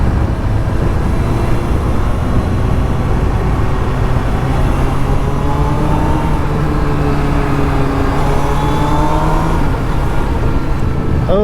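A motorcycle engine loud and close while riding through twisty roads, the pitch rising and falling as the quick shifter snaps through gears, with heavy wind rush and no clear talk.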